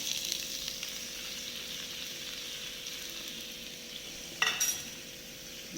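Fish and sliced onion with bitter gourd fry in a pan, a soft steady sizzle heard close and fairly quiet, broken near the end by a short clatter of a utensil, with no speech.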